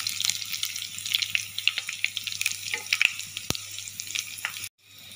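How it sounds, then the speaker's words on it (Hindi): Tempering of cumin, garlic and broken dried red chilies in hot oil sizzles and crackles steadily while a spoon stirs it, with scraping and small pops, close up, for a bottle gourd lauki dal. "तो देखिए तड़के को हम अच्छे से चम्मच से चला लेंगे।"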